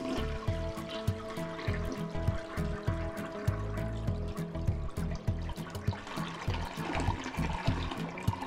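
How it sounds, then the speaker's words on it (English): A toilet flush sound effect in the video game Unpacking: a continuous watery rush and gurgle running the whole time, mixed with rhythmic game music beats, no voices. "Here's a toilet. Flush."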